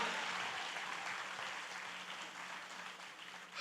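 Church congregation clapping in praise to Jesus, a steady wash of applause filling the room at moderate distance, fading slightly toward the end with no voices over it.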